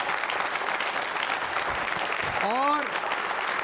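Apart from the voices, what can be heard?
audience applause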